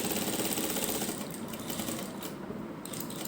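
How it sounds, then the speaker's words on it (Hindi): A sewing machine runs steadily while stitching a neck design into fabric, a close, continuous mechanical whirr with a fast stitching rattle that holds for the whole stretch without pause. "तो देखिए, इस तरह से सिलाई लगाते हुए"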